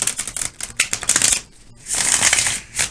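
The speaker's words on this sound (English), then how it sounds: "Eyes closed, shuffle, shuffle, cutty, cutty" Tarot cards shuffled and cut by hand in a run of quick papery riffles and slaps, with a short pause before a longer burst and a final flick, close and fairly loud with no talk.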